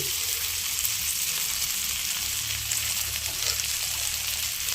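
Sukti dried fish frying in a pan with oil, a constant dense sizzle and crackle close up, steady throughout with no talking.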